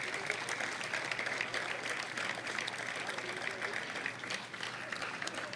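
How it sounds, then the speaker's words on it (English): Sustained applause from a crowd at a high school groundbreaking ceremony, steady clapping throughout at moderate volume with no breaks. "Let's give these guys a big round of applause."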